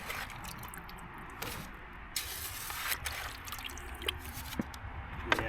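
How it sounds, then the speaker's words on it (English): A bucket of gravel and clay being speed panned for gold outdoors, with steady sloshing water and wet gravel swirling in the pan. Sharper scrapes and splashes break through at intervals, close to the listener, with no talking. "And now we're going to speed pan this."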